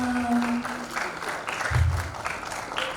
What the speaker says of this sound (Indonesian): Tepuk tangannya Bapak Ibu sekalian.